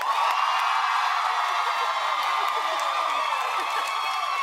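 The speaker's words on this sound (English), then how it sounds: "we're gonna go by round of applause" A studio audience at a matchmaking TV show applauds and cheers in a dense, steady wash of clapping and whoops that holds at full strength from start to finish.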